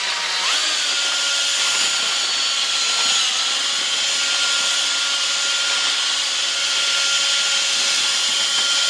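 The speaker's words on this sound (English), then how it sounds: "Now we agitate the mixture of ice, water, and product, using the drill and the spoon" A power drill whirs steadily and loudly throughout, agitating a mixture of ice, water and product with a spoon attachment, a continuous high-pitched motor drone with slight wavering, close by and with no talking.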